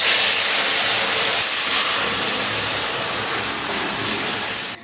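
Red lentils hit hot oil with tempering spices for a drumstick-and-lentil dal, raising a loud, steady sizzling hiss held close for several seconds, with no talk.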